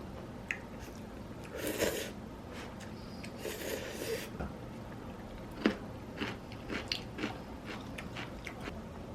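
Person chewing and biting into a home-cooked Korean meal at home, with soft close mastication sounds and a few louder crunchy bites scattered through a quiet room.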